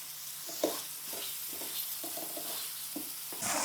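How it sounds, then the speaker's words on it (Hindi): Goat liver fries on a hot tawa, a steady sizzle broken by a series of rhythmic spatula scrapes as the pieces are stirred and turned, close and alone with no voices. "इस तरह हम मिक्स करते रहेंगे ताकि ये हर तरफ से प्यारी सी भुन जाए।"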